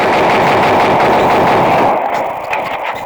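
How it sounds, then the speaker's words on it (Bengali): A train passing in a video game, a loud rumbling roar of rail cars that fades and thins after about two seconds, heard alone without talk. "এখানে আবার ট্রেন আসবে"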